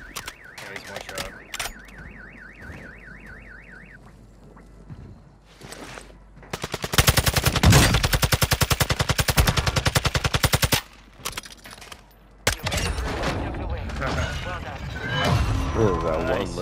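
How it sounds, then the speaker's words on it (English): Fast SMG bursts rattle in Call of Duty Warzone Resurgence, a dense rapid string of shots in the middle, with more gunfire near the end, electronic beeping early on and voices talking throughout. "One little shot from that SMG."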